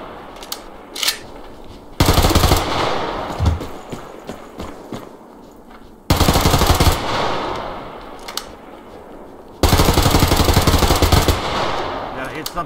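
Automatic weapon fire in the video game Survarium, three loud sustained bursts of rapid rattling shots separated by quieter gaps with scattered single reports, close and dominant.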